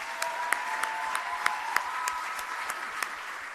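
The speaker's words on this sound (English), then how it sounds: "Let's give them an applause one more time." Applause from an audience at a national awards ceremony, a moderate, even patter of clapping with a few sharper individual claps standing out, steady throughout and heard at some distance in the hall.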